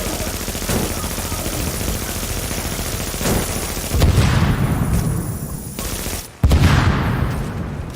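Rapid video game gunfire rattles away at a boss in a shooter, with sustained automatic bursts, sharp single shots and a heavy boom near the end, loud and continuous.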